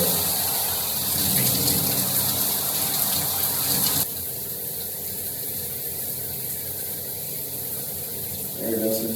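A shower runs onto hair covered by a do-rag, a dense hiss of spraying water that drops to a softer, muffled patter partway through, steady and close.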